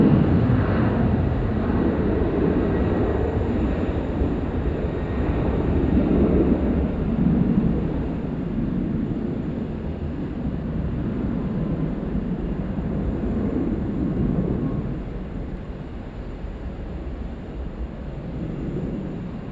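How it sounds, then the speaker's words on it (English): A Velocity Boeing 737-800 takes off from runway 16 right at Sydney Airport at night, a loud continuous jet roar that swells and rumbles, then slowly fades as it climbs away. "We've got a Velocity 738 now about to rip snort it off runway 16 right."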